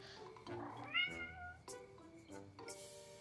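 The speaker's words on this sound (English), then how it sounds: "Just cats." Cats meow softly and at a distance, a few drawn-out wavering calls spread over a quiet indoor background with no talking.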